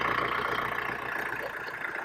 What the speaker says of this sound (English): So I'm going to get back in the tractor and we're going to go back to tilling a little bit.